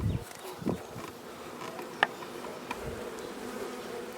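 A captured honey bee swarm buzzes as a steady, dense drone close by, with a few scattered knocks and taps over it and no talking.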